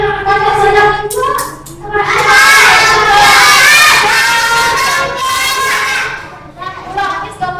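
A classroom of children shouting an answer together, a loud, sustained chorus of young voices that swells and holds for several seconds before breaking into scattered speech.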